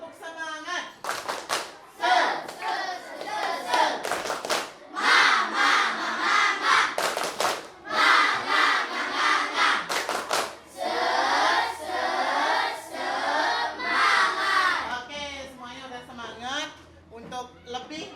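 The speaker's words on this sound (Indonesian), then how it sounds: "Tepuk semangat." A group of trainees performing a rhythmic spirit clap (tepuk semangat), bursts of patterned clapping in repeated sequences mixed with chanted voices, close and loud, pausing briefly between rounds.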